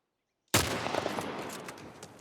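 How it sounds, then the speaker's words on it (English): A single rifle shot rings out in The Last of Us video game, a sudden loud blast after brief silence that trails off in a rumbling echo. "That's where we can one-shot him with this rifle."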